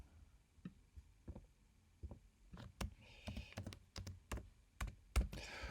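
Quiet, uneven keystrokes on a computer keyboard as a folder name is typed, with clusters of clicks and a few pauses.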